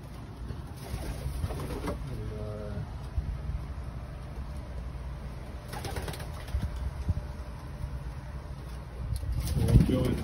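Racing pigeons coo softly in a loft in low, repeated murmurs against a steady background hum, with occasional rustling and flutter nearby.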